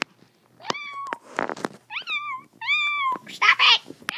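A house cat meows several times up close, drawn-out wavering cries in a loose series of four or five, ending in a harsher hissing burst, with no speech over it.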